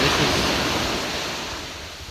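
Ocean surf washes onto a black sand beach in Iceland, a loud broad roar of breaking waves mixed with wind that slowly recedes over a couple of seconds.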